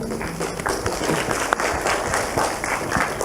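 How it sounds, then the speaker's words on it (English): An audience at a blockchain conference applauds the speakers, a dense burst of clapping from a crowd, loud and close, continuing steadily for a few seconds. "So big round of applause for them."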